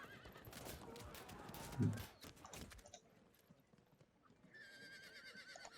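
Horses whinny and hooves clip-clop in a Field of Glory II battle scene, with a loud neigh partway through and battle ambience fading afterward.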